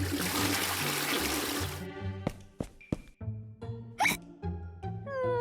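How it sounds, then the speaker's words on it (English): A toilet flushes with a loud rushing of water that cuts off after a couple of seconds, followed by a series of sharp thumps, clicks and short squeaky noises in a small, quiet room. "Pinkie Pie refused to listen and went to the toilet"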